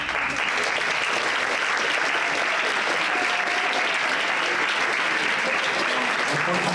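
Continuous, loud, dense applause from a closing-ceremony audience at a Model United Nations event, honoring an award winner and holding steady throughout.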